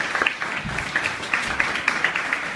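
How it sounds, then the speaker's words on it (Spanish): Applause from an audience at a human rights panel at the Universidad de Jalapa, a soft, steady patter of clapping heard from a distance with no voices over it. "Un fuerte aplauso, por favor."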